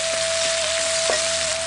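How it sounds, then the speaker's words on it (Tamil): Onions, curry leaves, green chilies and salt sautéing in oil left from frying eggs for a village-style chicken and egg curry: a constant, dense sizzle with a faint steady tone and no talking. "அடுத்து முட்டையை பொரிச்ச எண்ணெயிலே கொஞ்சம் கறிவேப்பிலை, நறுக்கு நார வெங்காயம், 2 பச்சை மிளகாய் கூட கொஞ்சம் உப்பு சேர்த்து வதக்கிட்டு"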